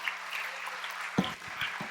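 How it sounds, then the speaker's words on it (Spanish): Church congregation at a Spanish-language service clapping, a moderate, uneven round of applause swelling up over a quiet room hum, with occasional louder claps. "Den un aplauso al Señor"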